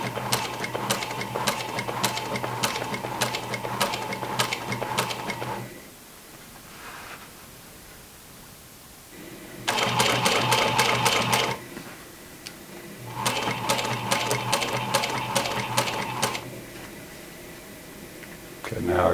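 A sewing machine stitching jeans at a 3.5 stitch length runs in three loud bursts of rapid, even needle clatter, separated by quieter pauses.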